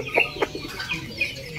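Native chickens roaming loose outdoors give a few quick, close clucks in an uneven run, clear against light ambient noise.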